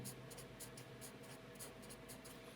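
Marker or chalk writing on a classroom board makes a faint, quiet sequence of short rhythmic strokes and squeaks over a low room hum.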